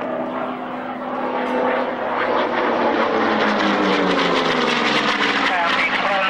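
Grumman Hellcat propeller fighter flying at a military airshow at Old Warden, a loud, steady engine roar with a shifting, droning pitch as it passes, while a commentator talks over it.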